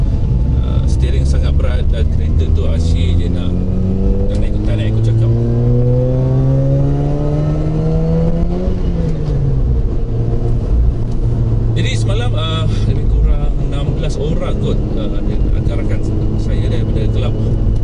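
A Kia TCR front-wheel-drive touring car is raced in the iRacing simulator at Silverstone. Its engine revs rise and fall through repeated gear changes, with a loud continuous whine and one long climb before a shift near the middle.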